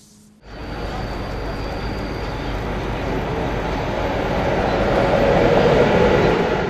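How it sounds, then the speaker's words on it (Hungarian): A pilgrim train pulls into a station late in the evening, a loud, steady rumble and roar that starts abruptly and swells slightly as it nears. "A vonat késő este érkezett"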